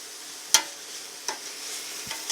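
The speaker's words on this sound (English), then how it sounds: "we're going to be sauteing this for about another 5 minutes, okay?" Kale and mixed vegetables sauté in a pan with a steady, faint sizzle, broken by three sharp utensil clicks against the pan spaced about a second apart.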